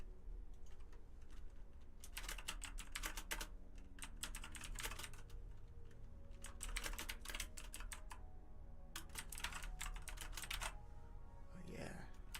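Keys clacking on a computer keyboard received as a gift, typed in quick bursts with short pauses, close and crisp, with a voice speaking briefly near the end.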